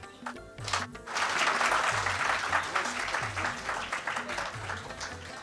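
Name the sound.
audience applauding as a guest comes on stage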